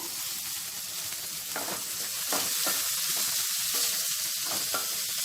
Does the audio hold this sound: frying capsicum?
yes